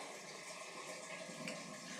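A rain-style shower head sprays water in a house bathroom, giving a steady close hiss of falling water that stays even throughout.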